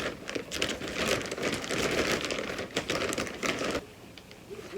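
A received parcel is opened up close, with dense crinkling and tearing of packaging that runs continuously and eases off near the end.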